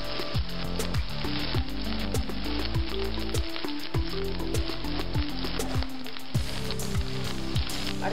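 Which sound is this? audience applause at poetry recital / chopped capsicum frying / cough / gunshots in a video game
chopped capsicum frying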